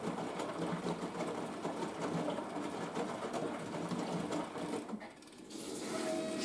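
An AEG Lavamat washing machine drains with a steady mechanical whirring and rattling hum, close and fairly loud, dipping briefly near the end before resuming.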